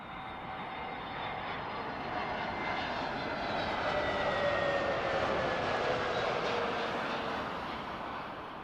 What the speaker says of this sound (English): Next up, Lufthansa. It's an A320neo in from Frankfurt.